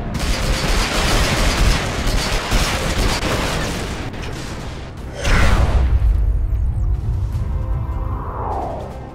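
Air-to-ground rockets fire from a Reaver gunship in PlanetSide 2, a dense, loud barrage of blasts and booms that swells again midway, then a whooshing streak trails off near the end.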